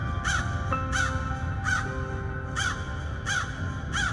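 A cartoon crow caws six times at an even, unhurried pace, each call harsh and clear against a low steady background hum.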